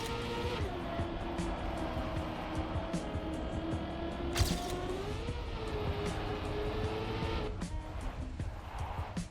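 A car in the racing game Trackmania drives on with a steady droning engine tone that rises and falls with gear changes, plus a sharp thump midway, constant and fairly loud.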